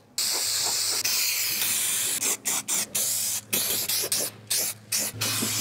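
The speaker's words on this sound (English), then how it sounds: "So we're gonna spray 74 on this section and on this little return right here" 74 spray adhesive glue is sprayed from a can inside a Ford Transit van onto door jamb sections, in loud close hissing bursts, first in one long spray and then in several short pulses.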